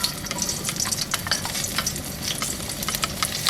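Garlic and coriander root fry in oil for Thai-style chicken rice, giving a dense, close sizzle with rapid crackling pops and occasional stirring scrapes, no voices.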